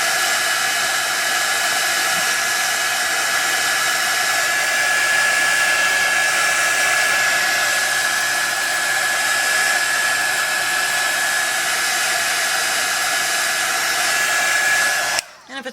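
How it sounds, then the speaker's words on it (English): A heat gun blows steadily and loudly at close range, drying a thick layer of Dylusions paint; the constant whooshing airflow carries a faint whine and runs unbroken until it cuts off abruptly at the very end. "I'm going to just dry it a little bit here with my heat gun"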